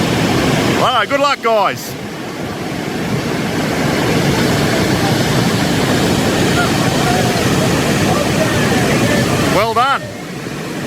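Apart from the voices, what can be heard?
grade 4 white water rapids on the Tully River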